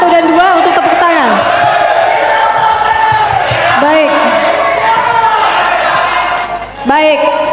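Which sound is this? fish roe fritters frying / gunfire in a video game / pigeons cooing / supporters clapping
supporters clapping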